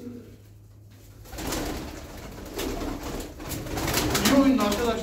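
Soft cooing of a female tumbler pigeon mixed with rustling and background noise, growing slightly louder toward the end.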